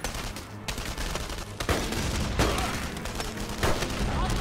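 Sustained bursts of MG42 machine gun fire in a video game rattle loudly and continuously, with heavier booming hits breaking through the dense noise.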